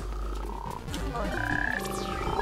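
Frogs croak in Guild Wars 2's 8-bit Super Adventure Box dungeon, with repeated short croaks over steady chiptune-style game tones and a low hum, and no talking.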